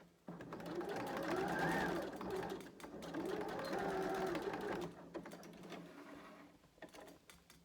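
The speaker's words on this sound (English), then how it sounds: "that stitch was done in that fold line all the way along the raw edge of the pants onto the inside of the garment" Sewing machine stitching along the fold line at the raw edge of a pair of pants, a long continuous mechanical whir that pauses briefly and then resumes more quietly, with no talking.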